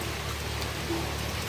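Rain falls in a village setting as a soft, steady hiss of drops, fairly quiet and continuous over a short stretch with no voices heard.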